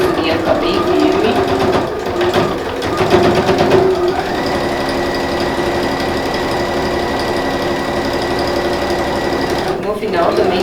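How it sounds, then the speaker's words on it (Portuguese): A sewing machine stitches a side seam of a fabric lab-coat holder with a close, continuous rapid mechanical chatter, briefly pausing mid-run, with a person speaking over it. "Costuro a lateral, pezinha de máquina."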